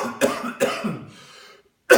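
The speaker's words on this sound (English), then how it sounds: "cough," A few harsh, close coughs in quick succession after smoking, a short pause, then one more sharp cough.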